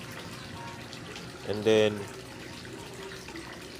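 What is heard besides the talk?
water poured into a goldfish breeding container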